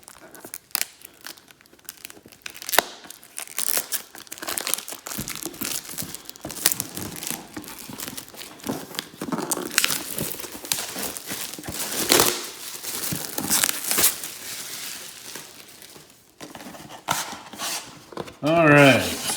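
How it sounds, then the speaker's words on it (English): Cellophane wrap being peeled and torn off a boxed Mu Model G1 Optimus Prime toy package gives continuous close crinkling and crackling with sharper tearing bursts throughout. "let's get the cellophane off and see what it comes with"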